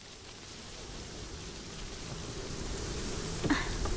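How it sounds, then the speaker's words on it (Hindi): A steady rushing roar of wind builds gradually and fills the space, with a brief click near the end. "कितनी तेज हवा चल रही है"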